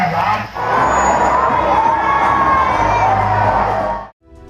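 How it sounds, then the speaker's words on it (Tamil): Crowd of schoolboys and schoolgirls cheering and shouting noisily outdoors during an election campaign visit, loud and continuous with excited voices, cutting off abruptly at the end. "அங்கிருந்த மாணவ மாணவிகள் ஆரவாரத்துடன் கைத்தட்டி உற்சாகப்படுத்தி"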